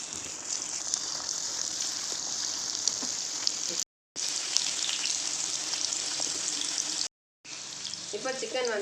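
Chicken manchurian pieces deep fry in hot oil, a dense, steady crackling sizzle that fills the space, broken by two brief silent gaps, close and loud with no speech.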